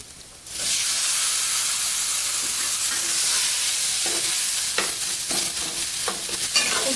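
Roasted, peeled eggplant hits hot oil with onion, tomato and spices and erupts into a loud, steady hissing sizzle, broken by a few clanking stirs of the spoon in the pan, no talking.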